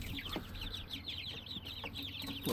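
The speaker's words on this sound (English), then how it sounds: "there's a naked neck in there, and her name is, we hope it's a hen, Danny" Repeated soft clucks and chirpy calls from a naked neck chicken close by, a steady run of short notes over a low background rumble, with no voices.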